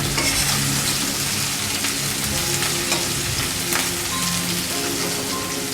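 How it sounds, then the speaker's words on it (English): Garlic frying in a pan for Thai basil chicken (kra pao kai), a steady dense sizzle with light stirring, close and continuous with no talking. "Fry the garlic a little bit"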